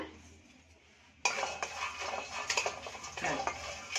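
Tamarind being warmed and stirred in a pan, heard as a sudden start of scraping and clinking of a utensil against metal, close and fairly quiet, with no talking.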